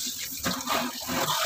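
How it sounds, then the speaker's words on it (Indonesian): Water runs steadily from a tap, splashing and rinsing in a continuous hiss with slight surges, fairly close. "Nah, ini kita siram-siram biar bersih-bersih ya."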